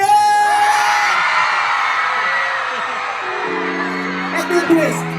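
Concert crowd at an outdoor show in Baybay City, Leyte, cheering and yelling loudly in a sustained roar of whoops and shouts, with a few louder voices rising near the end.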